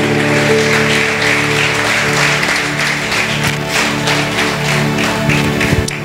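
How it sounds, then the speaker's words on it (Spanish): Loud, dense applause from a large church congregation fills the whole stretch without a break. "denle un fuerte, pero fuerte aplauso al que vive"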